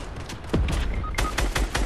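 Rapid bursts of gunfire from a shooter video game crack out in quick succession, loud and close, several shots clustered over under two seconds.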